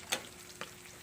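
Garlic, onion and chili pepper sauté in a pan for a chicken liver igado, giving a soft, steady sizzle with two quick crackles.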